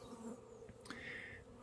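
Honeybees from a strong colony fly at the hive entrance on the sunny side of a bee house, making a steady, faint, continuous buzzing drone with no voices.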